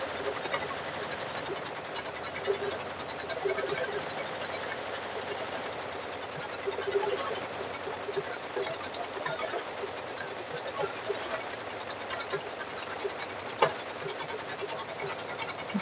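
A sewing machine stitches a quilt in a steady, fast mechanical buzz that runs unbroken throughout, close and moderately loud, with a few faint clicks and no clear talking.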